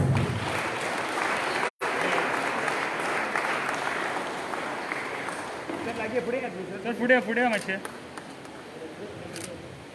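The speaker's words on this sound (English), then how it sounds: "Please give her a round of applause." An audience at a school event claps in a sustained round of applause, and a voice speaks over the clapping toward the end.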